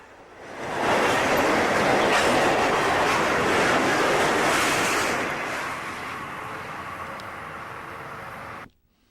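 A Florida East Coast freight train roars past up close, a loud sustained rumble with clickety-clack from the cars that eases slightly before cutting off abruptly.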